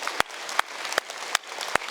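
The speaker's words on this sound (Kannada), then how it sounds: "ಇವ್ರಿಗೆ ಚಪ್ಪಾಳೆ ಹೊಡ್ರಿ" Scattered applause from participants at a yoga camp, a short burst of moderate clapping with a few sharper, louder claps standing out at regular intervals.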